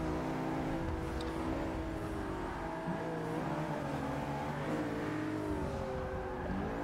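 A McLaren 650S Coupe engine held at high revs while drifting, a loud continuous roar whose pitch wavers up and down with the throttle, close and unbroken, with no talk.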